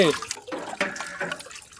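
Water poured by hand while making homemade paneer in a village kitchen, short splashing pours close by with faint voices underneath.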